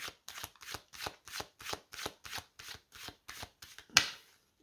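Divination cards shuffled by hand in a quick, regular series of about a dozen riffling bursts, close and fairly quiet, ending on a sharper snap, with no talking.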